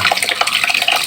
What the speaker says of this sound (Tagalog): habang nagsasahod tayo ng tubig